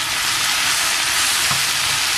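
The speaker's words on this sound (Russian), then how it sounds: "Жарятся мои грибочки." Mushrooms fry in a pan for a pearl barley dish, giving a steady, close, broadband sizzle that holds evenly throughout with no talk over it.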